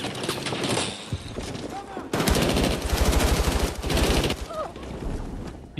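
Automatic gunfire in the video game Battlefield, with rapid, evenly spaced shots in a loud sustained burst mid-clip, scattered shots around it, and a player talking over the action.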